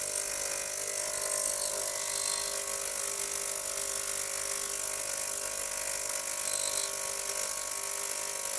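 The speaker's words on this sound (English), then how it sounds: "into the ultrasonic and see if we can loosen it up a bit" Ultrasonic cleaner running with a vintage Onoto De La Rue No. 50 fountain pen inside, a steady, dense buzzing hum with high whine that holds constant and close throughout.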